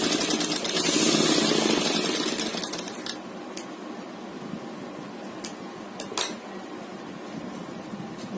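A sewing machine stitches a fabric sleeve panel, running loudest in the first few seconds with a steady whirring hum, then settling into a quieter continuous drone punctuated by a few sharp clicks.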